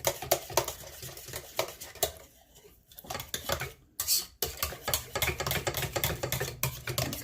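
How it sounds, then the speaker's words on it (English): Potato bread dough being mixed by hand with a Danish dough hook in a bowl, rhythmic scraping and knocking strokes repeating close up, with a brief pause partway through before the mixing resumes. "I'm going to use my Danish dough hook. Mix the potato in a little bit."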